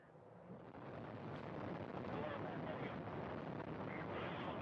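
Progress 65 cargo rocket main engines igniting at launch, a broad, steady roar that swells in the first second and then holds loud and constant, heard from a distance.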